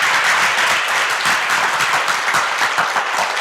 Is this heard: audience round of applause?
yes